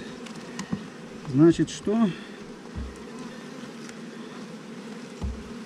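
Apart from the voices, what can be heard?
honey bees buzzing on a hive frame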